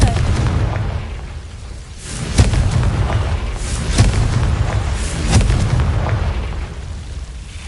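A Confringo blasting spell in a video game sets off repeated explosions, roughly four booming bursts at irregular intervals over a constant rumbling backdrop, loud and close.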